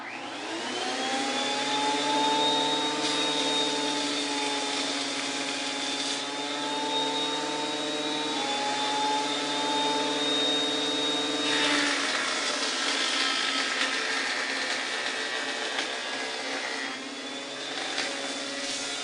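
A homemade woodworking jointer runs steadily and loudly on its own, a continuous motor whine with spinning-cutter hum that holds for the whole stretch, a few subtle shifts in pitch and texture along the way.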